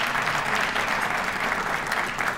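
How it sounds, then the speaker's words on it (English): A symposium crowd in Birmingham gives a round of applause, a thick, continuous wash of clapping from many people, loud and even for its short length. "Can I have a round of applause?"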